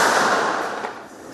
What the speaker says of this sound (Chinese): 派出遥控拆弹车即场引爆可疑物品